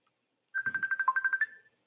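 A phone ringtone plays a short, quick run of about ten bright, evenly pulsed beeps for an incoming call, loud and alone against silence, then stops.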